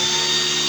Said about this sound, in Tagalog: wala pong patayan yung blower. Dire-diretso po yung ikot niyan.